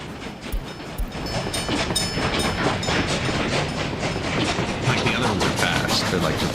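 A modded fast train in the city-building game Workers and Resources rumbles past with steady, loud rolling noise and rapid clickety-clack of wheels over rail joints, continuous throughout without speech.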